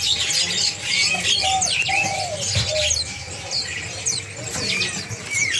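A caged rawa-rawa songbird sings at a bird market, bright rapid chirps and warbling phrases repeating over a busy backdrop of other birds cooing and chattering, loud and close.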